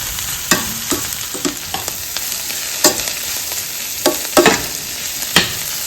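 Indian broad beans being stir-fried in a pan with salt and turmeric powder, a steady sizzle broken by repeated sharp spoon scrapes and clatters at an irregular rhythm, close and alone.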